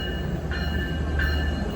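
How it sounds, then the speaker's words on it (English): A Long Island Rail Road commuter train rolling past near Babylon, a steady, loud rumble that holds through the whole moment with no speech. "I don't know what train is this"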